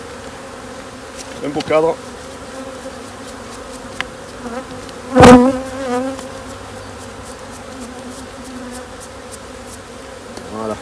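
A small swarm of bees being collected from a hive, buzzing continuously close by with individual bees droning past the microphone; a brief spoken remark and a few sharp knocks break through.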